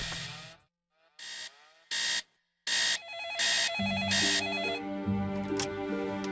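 A hotel room telephone rings for a wake-up call in bursts of bright electronic tones separated by short gaps, then turns into a denser stepped melodic ringtone, loud and close with no talk.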